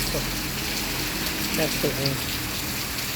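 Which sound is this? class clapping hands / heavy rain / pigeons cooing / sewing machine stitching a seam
heavy rain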